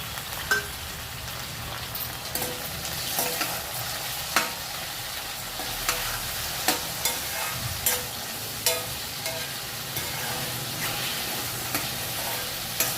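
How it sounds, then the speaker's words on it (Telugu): Tomatoes and cashews fry in hot oil with a steady, loud sizzle. A spoon scrapes and knocks the pan at regular intervals throughout, and no voices are heard. "ఇప్పుడు ఈ టమాటాలు ఈ కాజు కూడా వేసుకుంటున్నా"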